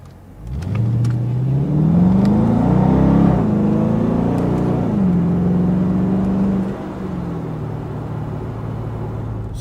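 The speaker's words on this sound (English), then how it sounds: "You can definitely hear that Hemi roaring under there" A 2017 Dodge Charger R/T's Hemi V8 roars under acceleration, a close, strong engine note that rises in pitch, shifts, then settles and eases off toward the end, with no talk.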